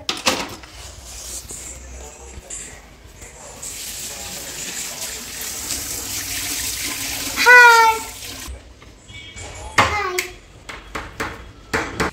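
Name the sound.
water running while washing hands and legs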